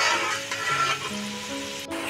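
Pitha rice cakes fry in hot oil, a steady close sizzle that keeps going without a pause and with no voices over it.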